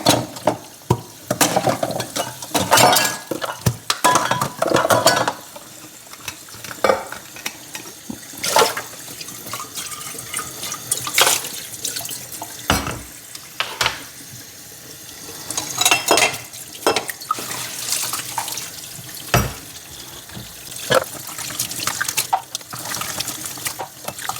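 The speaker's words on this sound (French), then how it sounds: "les gourdes, les timbales et la paille. Donc j'ai tout ça à laver." Tap water runs into a kitchen sink while baby bottles, water bottles, cups and a straw are rinsed by hand, with intermittent splashing bursts, clinks and pauses close up.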